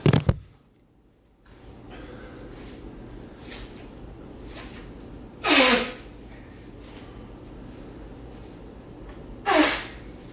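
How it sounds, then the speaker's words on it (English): A loud nose blow bursts out near the start, and two shorter sniffing blasts follow at intervals against a quiet room hum. "Let me blow my nose real quick."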